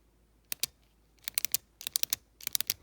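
A plastic Sharpie S-Gel gel pen clicks repeatedly at close range, sharp light snaps in quick pairs and small clusters against a quiet room, with no talking.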